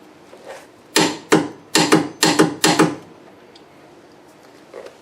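A ratchet wrench torques a rear suspension bolt on a 2001 Lexus IS300 during a front suspension install: several sharp, rapid clicking bursts in quick succession, close and loud, then quiet with a faint clink near the end.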